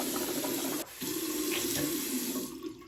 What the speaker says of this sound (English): I'm gonna rinse my mouth out with water.